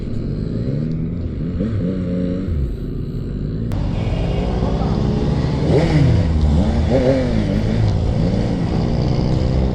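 A Yamaha XSR 900 big bike engine revs up close in several rising and falling bursts over a steady running drone, loud and throaty throughout.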